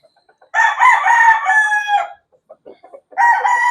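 A 6-month-old pure 5K gamefowl broodstag crows loudly and close by in two long crows, with a few soft clucks in the gap between them.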